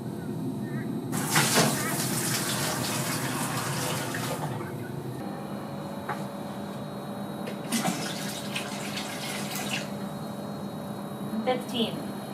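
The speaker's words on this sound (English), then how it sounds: "So I'm going to be filling it up with my 2-liter jug here." Water pours from a 2-liter jug into a pot in two splashing bursts during home beer brewing, with a quieter trickle between and a steady hum underneath.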